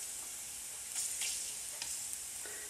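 Bacon frying in a pan on medium heat, a steady close crackling sizzle with a few sharper pops and spits, no voices over it.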